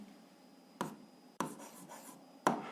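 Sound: writing the answer by hand

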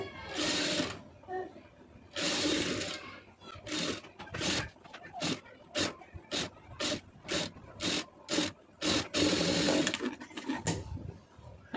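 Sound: sewing machine stitching a puff sleeve

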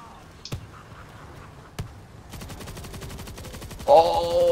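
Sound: Lance SMG gunfire, from World War Z video game

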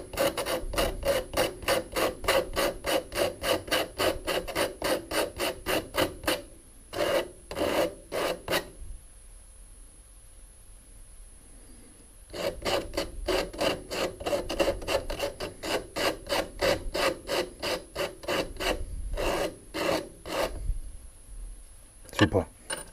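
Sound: sanding a homemade fire blowpipe

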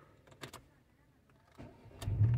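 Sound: Volkswagen car engine starting

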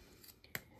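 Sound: sewing scissors trimming the edge of a metal zipper

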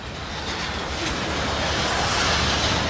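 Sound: train going through switches

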